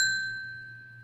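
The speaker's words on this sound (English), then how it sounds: "this is the bell that is in my study here on the shelf" A small bell kept on a study shelf is struck once, giving a clear, pure ringing tone that slowly decays. There is no other sound.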